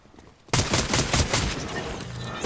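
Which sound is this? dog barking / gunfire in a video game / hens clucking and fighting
gunfire in a video game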